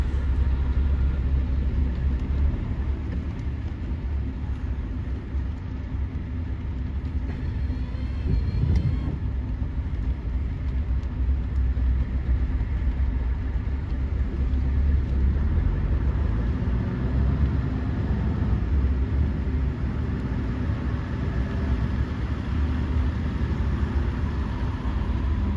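City road traffic, a continuous low rumble of car engines idling and moving nearby, steady throughout with occasional swells as vehicles pass, no voices.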